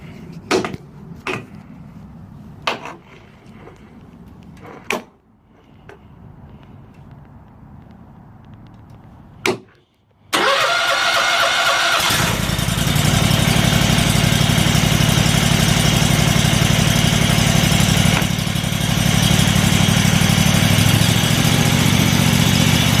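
Pressure washer pump motor, about 20 hours of use, first a few sharp clicks and pull attempts, then it fires at around ten seconds and runs loud and steady close by.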